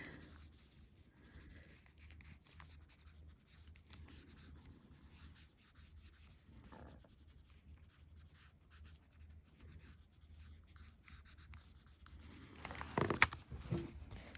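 A paper stump rubs and scrapes over embossed metal tape around raised lettering, producing soft, continuous dry scratching strokes at close range, with a louder brushing burst near the end.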